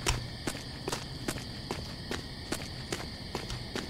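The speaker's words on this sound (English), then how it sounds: "It just sounds like footsteps behind me." Footsteps walking through a forest of very large trees, steady crunching steps at an even pace, about one every half second, close and fairly loud over faint insect and ambient noise.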